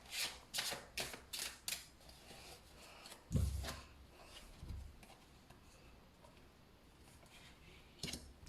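Tarot cards shuffled and drawn in a quiet room: a quick run of crisp riffling flicks, then a soft slap as a card is laid down, with a few lighter rustles after.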